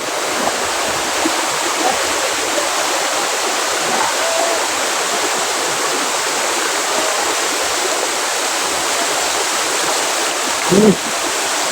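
Water of the Mayabi waterfall at Jaflong, running low after little rain, pours in a steady, unbroken rushing roar close by, with a brief louder splash near the end.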